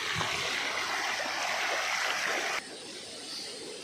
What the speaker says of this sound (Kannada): ನೀರು ರಭಸದಿಂದ ಧುಮುಕುವಂಥ ನಿಮಗೆ ಶಬ್ದ ಕೇಳಿಸ್ತಿರ್ಬೋದು